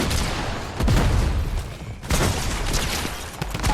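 Pump shotgun blasts in Fortnite gameplay, two loud broadband shots about a second apart, each ringing out in a dense burst of gunfire over constant game noise, with no talk.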